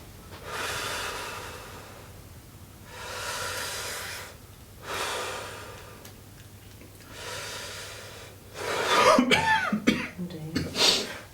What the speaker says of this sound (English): If you could have a few more deep breaths in and out.